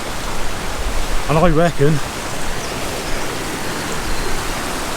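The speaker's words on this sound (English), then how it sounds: "If you remember yesterday, we had trouble crossing this river, right?" Steady broadband rush of river water flowing at a crossing, a continuous full wash with a brief stretch of speech over it.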